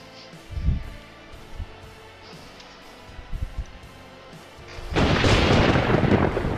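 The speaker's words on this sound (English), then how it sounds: "Must be a storm outside." Thunder rolls in the survival video game 7 Days To Die, scattered low booms across the first seconds, then a loud sustained rush of heavy rain and wind takes over.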